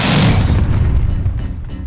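A rice-puffing cannon fires into a bag, releasing one loud, deep boom with a rushing blast that decays into a rumbling tail, close and overwhelming.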